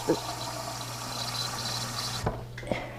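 Water poured into a pot on a stove-top for cooking porridge, a steady close gush lasting a couple of seconds before cutting off, followed by a few faint knocks.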